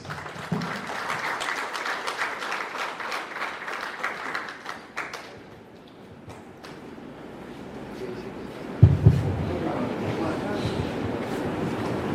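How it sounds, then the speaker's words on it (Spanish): A room of attendees at a municipal presentation on new local electoral districting in Centla claps to welcome a speaker, steady dense applause that fades midway before a louder stretch returns with a couple of bumps. "vamos a recibir con un fuerte aplauso"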